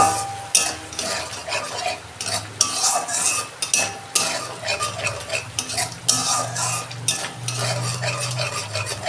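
Katla fish curry spices, including Kashmiri chilli powder and salt, are stirred and sautéed in a pan, with the spoon scraping and clinking steadily against the metal over a low sizzle, close and fairly loud.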